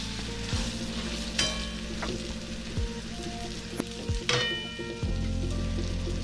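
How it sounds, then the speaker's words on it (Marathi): Fried peanuts, coconut and curry leaves are stirred into chivda, with a spoon scraping and clinking in the pan over a steady dry rustle and crackle. "तळलेले शेंगदाणे, खोबरा आणि कढीपत्ता हे मी यात मिक्स करतोय"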